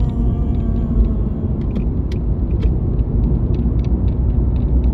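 Interior rumble of a ten-year-old car on the road, a steady low engine drone with light rattles and clicks over it, continuous and close.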